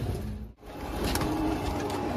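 White-eyed green dobaz pigeons coo softly in one brief, low call that sits under a steady background hiss and faint mechanical noise, with no voices.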